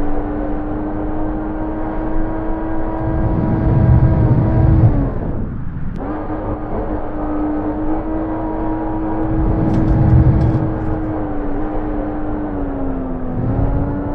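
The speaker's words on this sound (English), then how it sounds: "So I can actually hear the engines behind me, which is really cool." Rover engines in the VR game Red Rover give off a steady whirring drone from behind, swelling louder twice and briefly cutting out midway, with no voices.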